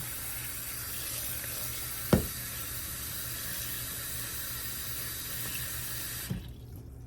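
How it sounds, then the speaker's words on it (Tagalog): Water runs steadily from a tap into a cooking pot for sinigang with pompano, a continuous close hiss throughout with a single brief clunk partway, then the flow stops near the end. "Tapos, lagyan na natin siya ng tubig."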